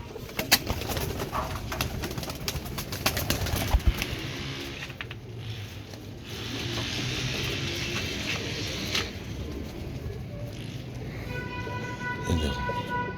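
Pigeons being readied for shipment from Pakistan to Iraq coo softly amid a busy background of clatter and movement, and a brief shrill tone appears near the end.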